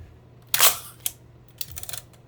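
Mechanical clicks and a brief whirring rasp from the gearing of a Kiev Salyut-S medium-format camera that is not engaging properly, heard close up as a few sharp bursts with short pauses between them.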